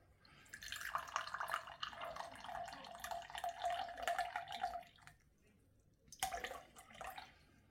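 Water being poured into a container to weigh 100 grams for a sourdough starter: a quiet close trickling stream, a pause, then a brief second pour.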